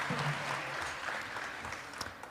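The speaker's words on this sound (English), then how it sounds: "let's join in giving a big round of applause to welcome him again for today's program" An audience at a Sunday Hare Krishna program claps to welcome a speaker, a short burst of dense, steady applause.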